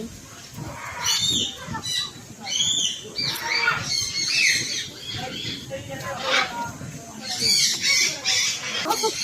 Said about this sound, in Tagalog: At ang daming iba-ibang ibon.